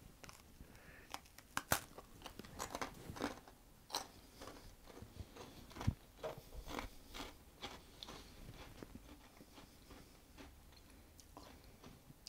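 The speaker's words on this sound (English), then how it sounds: "and they've baked up quite nicely, and you can hear they're nice and crisp" Crisp, freshly baked Cornish fairing biscuits are bitten and chewed, giving faint, close crunches and small snapping clicks scattered across a quiet background.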